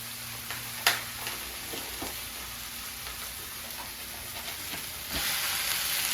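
Vegetables for a ground beef casserole sweating in a pan, a soft, steady sizzle and hiss with a few faint clicks and one small knock, the sizzle swelling slightly louder near the end.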